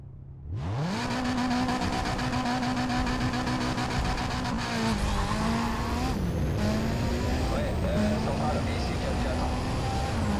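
A car race in the Need for Speed video game starts with one loud, steady engine roar that rises in pitch and then holds, with gear shifts and faint tire noise across ten seconds of constant, close sound.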